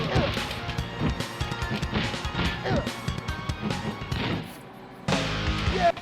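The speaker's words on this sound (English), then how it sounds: "That must feel so satisfying, just smashing someone back with a skateboard." Heavy smashing hits from a skateboard attack in Fighters Megamix on the Sega Saturn land in a dense, clattering flurry of crashes and whacks, with a louder impact near the end.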